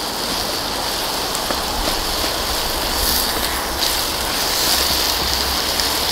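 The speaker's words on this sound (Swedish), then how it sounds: "Bra värme med, man hör hur det fräser." Pytt i panna fries in a hunter's pan over an outdoor fire in the snow, a steady broadband sizzle and crackle running continuously at close range with no break.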